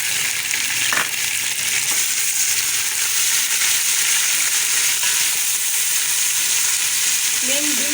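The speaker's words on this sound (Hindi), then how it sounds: "लहसुन अदरक का पेस्ट," Garlic ginger paste frying in a pot with onions and whole spices, a loud, dense, continuous hissing sizzle close up, with a faint stir and a few light knocks.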